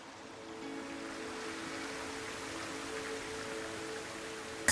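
The Bent River near Tyndrum, cutting a small chasm down from the slopes of Beinn Odhar, gives off a continuous, fairly loud rushing roar, even and unbroken, close by the grassy path.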